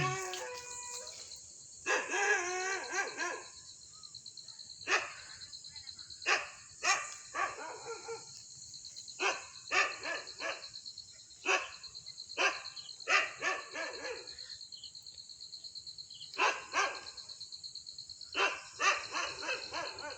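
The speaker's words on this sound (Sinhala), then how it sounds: "බල්ලෝ බොරනවා" Dogs bark in scattered bursts at a distance near a deserted plot of land, repeated irregularly over a constant high insect drone of crickets at night.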